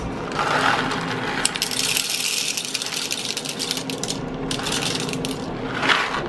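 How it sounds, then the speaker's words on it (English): Coffee beans are ground in a grinder at close range, a loud continuous rattling, crunching clatter with gritty bursts that carries on without pause and without talk. "Grinding beans. Never done it before."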